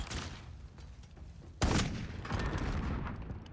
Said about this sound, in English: Oh, that was a nice nade.